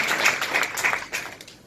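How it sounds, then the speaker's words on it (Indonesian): A small audience claps for Bapak Fadli at an Elken Global marketing plan meeting, a brief, light patter of hands from a few people nearby. "Tepuk tangan untuk Bapak Fadli ya"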